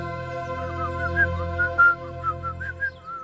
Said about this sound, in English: He's whistling. Such a joyful boyhood tune.